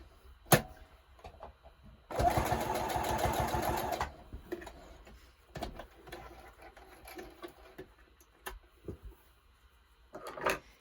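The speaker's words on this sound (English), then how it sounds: "we're going to sew it right across, and then we'll have our finished scrunchie" A sewing machine stitches straight across scrap fabric to close a hair scrunchie, a loud steady motor whir with rapid needle chatter lasting about two seconds, preceded and followed by quiet handling clicks and rustles.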